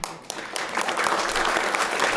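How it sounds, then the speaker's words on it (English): Tim claps vigorously, a dense, steady burst of applause-like clapping that starts sparse and quickly fills in, fairly close and loud, with no speech over it. "And Tim claps for this vigorously."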